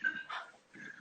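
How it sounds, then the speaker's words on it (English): A Chihuahua gives a couple of faint, high yips and whiny barks in the background of a home workout session, with quiet gaps between them. "Look at the Chihuahua in the background."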